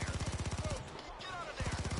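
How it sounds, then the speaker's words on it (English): In the video game Payday 2, rapid bursts of automatic gunfire rattle in quick, regular pulses. The shots pause briefly and then resume, with voices faintly mixed in. "You died from gunfire."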